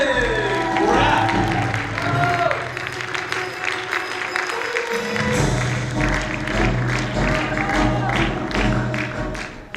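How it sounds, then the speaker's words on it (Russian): A theatre audience at a youth theatre award ceremony breaks into loud, sustained applause, dense clapping filling the hall with some cheering, while music plays underneath throughout. "Ваши аплодисменты."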